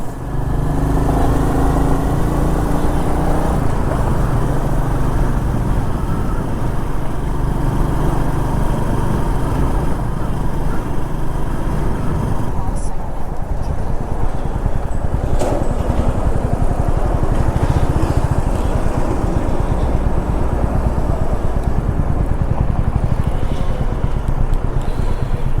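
A motorcycle ridden at night on the road from Kolkata toward Digha, past Khidirpur crossing, gives a steady loud engine drone mixed with wind and traffic rumble the whole way through, with no talk.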